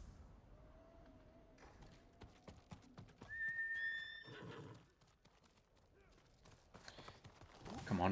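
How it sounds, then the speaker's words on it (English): Horse in the Ghost of Tsushima video game: a clear whinny rises midway over quick, repeated hoof clip-clops and light creaks, fairly close and unaccompanied by speech. "Come on, horsey."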